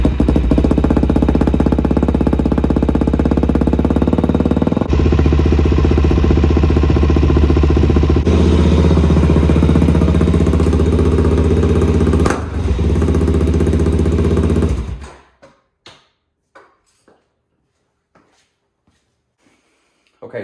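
A Suzuki DRZ400SM motorcycle engine idles loud and close, a steady throbbing thump for about fifteen seconds before it cuts off, leaving near silence with a few small clicks.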